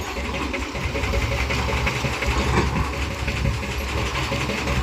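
A tractor-driven motor drones steadily while pumping water out of a newly built check dam, a loud, even engine hum that stays constant throughout with no voices.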